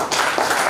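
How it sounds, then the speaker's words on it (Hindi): A short burst of dense applause and clapping from an audience at a Chhatrapati Shahu Ji Maharaj birth anniversary gathering, loud and close, lasting under a second. "जोरदार ताली।"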